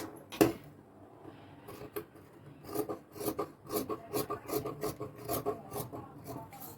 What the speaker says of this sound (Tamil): இப்போ கட் பண்ணுறேன்.